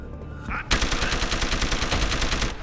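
Rapid automatic gunfire from a video game weapon rattles in a steady burst of evenly spaced loud shots for about two seconds, preceded by a brief click.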